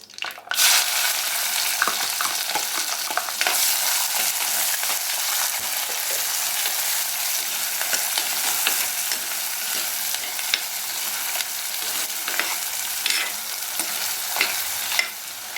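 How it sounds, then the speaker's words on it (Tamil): Onions frying with fennel seeds in hot oil for a Tamil chicken kulambu, a loud continuous crackling sizzle starting after a brief knock and running steadily throughout with scattered pops and stirring scrapes. "இப்போ சோம்பு நல்லா பொரிஞ்சிருச்சு இப்போ பொரிஞ்சதும் இதில் வெங்காயம்"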